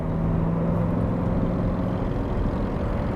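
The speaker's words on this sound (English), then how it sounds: "that's actually a Harley, not the car" A Harley motorcycle engine rumbles close by, with a steady, low, throaty drone that holds at constant loudness throughout.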